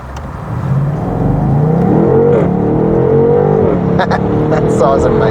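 BMW M850i xDrive engine revving in Sport Plus mode, a loud, close, rising growl that climbs and holds through several throttle blips, with faint voices underneath.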